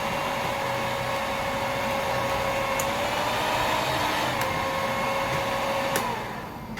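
An electric mixer beats nastar cookie dough with cheese and dates in a steady, continuous whirring drone at close range, running evenly for several seconds before easing off at the end, with no voices.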